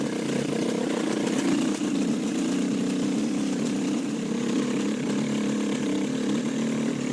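A KTM 350 dirt bike engine runs steadily at about 8,000 feet altitude, a continuous mid-pitched drone with little change in revs, close and fairly loud with no talk over it.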